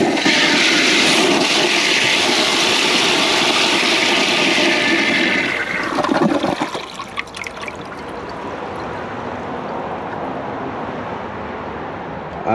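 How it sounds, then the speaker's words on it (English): A 2007 Kohler Cimarron toilet with a high bucket tank and a partly blocked siphon jet flushes loudly in a rush of water, which drops after about six seconds to a steady trickling refill. "Let's see how it flushes."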